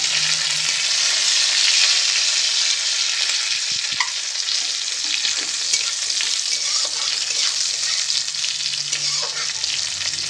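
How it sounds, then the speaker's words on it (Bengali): Bay leaves fry in hot oil, sizzling continuously in a pan, with a few soft taps and clicks, no voices. "তেজপাতা তো এটা একটু লালচে করে আমি ভেজে নেবো"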